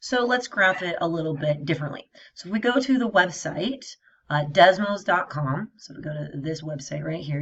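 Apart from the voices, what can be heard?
No everyday noises stand out.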